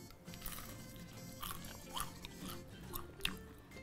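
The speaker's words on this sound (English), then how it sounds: "I hope you heard the crunch. Very crispy, very good." Crisp crunching bites and chewing of a fried chicken wing coated with fermented red bean curd, a few sharp crackles spaced through a quiet, close background with no talking.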